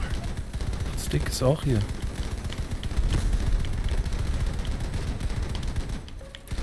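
Bursts of gunfire from vehicle weapons in the combat game Crossout, rattling through a dense battle mix with a brief spoken line partway through.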